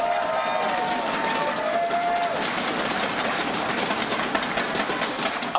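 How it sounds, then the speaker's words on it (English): Esports crowd cheering at a Starcraft 2 grand final between Team IBM and Epic, a broad, steady roar of voices and applause filling the hall, with a faint tonal hum near the start. "Give a cheer for Thudbang"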